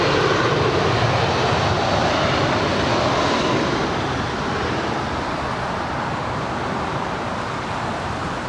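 An airliner taking off at LAX (Los Angeles), a loud, steady broadband jet roar that fills the whole clip, slowly easing slightly in level without any talk.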